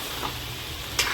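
Boiled, scored eggs frying in a pan for a dry fish curry, giving a soft continuous sizzle with a brief stir or scrape near the end.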